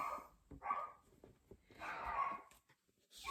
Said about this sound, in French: vous entendez mes chiens aboyer en plus